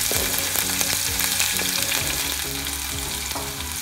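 Onions and chilies hitting hot oil with cumin, giving a loud, dense, continuous sizzle up close, with the low clatter of stirring underneath.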